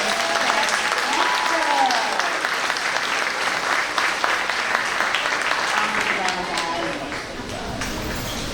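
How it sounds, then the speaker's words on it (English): Dense, sustained applause from a school audience at a fifth grade promotion ceremony, a continuous wash of clapping filling the room, with cheers and crowd voices mixed in and a slight fade near the end. "Give them another round of applause"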